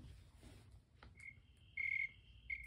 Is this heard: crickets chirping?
yes